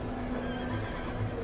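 A horse whinnies close by, with faint hoof clip-clop underneath, in a single short burst and no voices.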